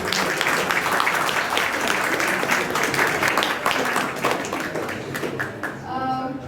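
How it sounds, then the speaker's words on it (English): Audience applause at an Indian film festival, dense sustained clapping from a large crowd filling the hall, tapering near the end as a voice begins to speak. "So big round of applause for art and cinema"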